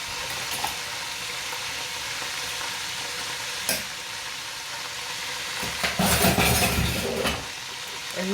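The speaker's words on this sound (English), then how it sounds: "So I'm gonna leave this saute." Meat sautéing in a pan, with a constant crackling sizzle close by, broken by a few louder scrapes and stirring bursts near the middle and toward the end, with no one speaking.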